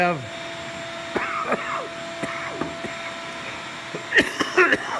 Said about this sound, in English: I'll just keep moving the vacuum cleaner around